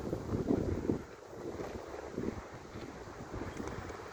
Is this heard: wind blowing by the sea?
yes